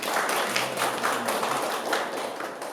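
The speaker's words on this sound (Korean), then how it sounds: "의원님 박수 한번 부탁드립니다" Participants at a Korean social welfare workers' policy forum applaud a lawmaker, a steady, even patter of many hands clapping that holds at moderate loudness with no voices on top.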